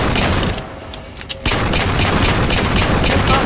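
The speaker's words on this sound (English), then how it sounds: "I'm brutally shooting you" Heavy, continuous gunfire from a Halo 4 multiplayer match, rattling bursts that dip briefly then resume loud and dense for several seconds.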